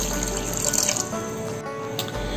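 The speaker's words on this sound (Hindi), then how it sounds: "इसमें 1/2 कप पानी हम और डालेंगे।" Water pours from a tap into a pan for plum chutney in a home kitchen, a short, steady, close splashing stream with no talk over it.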